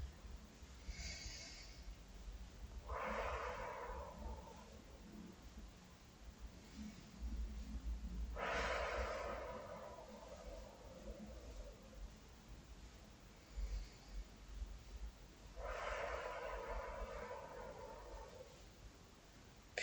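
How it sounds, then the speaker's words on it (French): Three slow, deep breaths drawn in and let out one after another, each a long soft rush of air, close and quiet with pauses between. "Puis prenez une bonne respiration lente et profonde 3 fois de suite."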